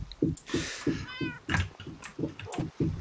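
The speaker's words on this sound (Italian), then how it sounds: "Gatto." A cat in a video game meows a few times over a steady run of soft, rhythmic low thumps, fairly close and clear.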